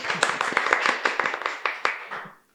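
Applause from a small studio audience greeting a guest on a sports talk videocast, a brief burst of dense, close clapping that thins out and stops after a couple of seconds.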